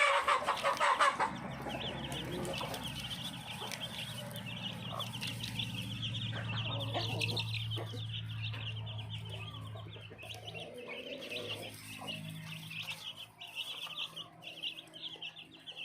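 Month-old black chickens clucking steadily in a backyard coop in Phetchabun, a dense, continuous flock chatter that carries on alone from start to finish.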